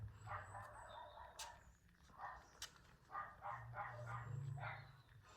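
Several dogs bark outside in short, scattered bursts, set back and muffled as if heard from indoors, against a steady low background hum.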